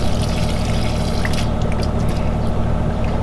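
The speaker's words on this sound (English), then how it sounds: "So the water comes out under a bit of pressure initially, and then it's just gravity drain." Water draining steadily from a pressure accumulator, a continuous close rushing and trickling flow with a low gurgle underneath, holding an even level throughout.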